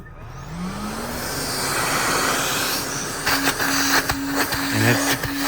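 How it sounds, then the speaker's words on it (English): A Chrysler Pacifica Limited's built-in vacuum cleaner spins up to a loud, steady whirring roar with a rising whine, plus a few brief bumps and clicks near the end. "I'm gonna show you the vacuum cleaner."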